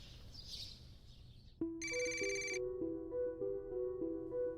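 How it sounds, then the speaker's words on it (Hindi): Telephone ringing indoors in a Pakistani TV drama scene, a clear electronic ring starting after quiet room tone, repeating in a steady pulsing pattern, fairly close and alone without speech. "किसका फोन आ गया?"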